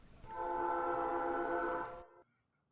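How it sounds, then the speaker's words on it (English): A train in a point-and-click adventure game blows a loud, sustained, chord-like horn for about two seconds, then cuts off into near silence; no one speaks. "I hear a train."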